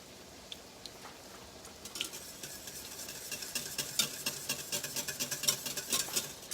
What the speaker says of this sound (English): We want to let it sit and get a nice sear on one side.